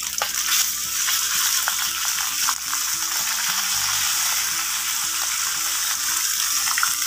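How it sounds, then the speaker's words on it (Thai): Two large mackerel fry in hot oil until crispy at an outdoor field kitchen, with a dense, constant hiss and crackle throughout and no one speaking. "เดี๋ยวเรามาทอดปลาทูของเราให้สุกกรอบเลยนะครับ"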